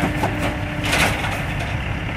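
A scrapped car being crushed: a loud, continuous grinding and crunching roar with heavy low rumble and brief cracking surges, steady throughout.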